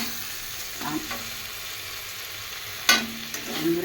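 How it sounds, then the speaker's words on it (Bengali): Green beans fry in a pan with a soft continuous sizzle, broken by a few scraping stirs and one sharp clack near the end, with no voices. "দেখুন, বরবটিটা ভাজা ভাজা হয়ে গেছে।"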